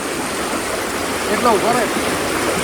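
Floodwater rushes through a flooded village in a steady, loud stream of flowing water, with brief bird-like chirps partway through and no clear speech.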